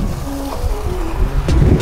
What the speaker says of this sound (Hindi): बहुत ही खतरनाक विंड आ रहा है